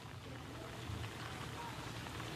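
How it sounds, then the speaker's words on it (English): Heavy rain from a Hurricane Irma squall pours steadily in Florida City, a continuous dense hiss of falling water, fairly faint and even throughout. "You can see the rain is starting to come down."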